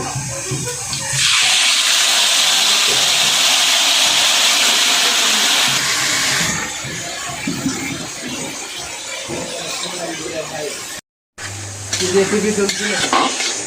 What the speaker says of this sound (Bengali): আলুটা লাল লাল করে ভেজে নিচ্ছি